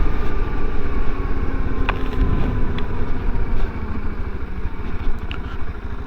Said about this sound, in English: that changes gear much better now, like a proper bike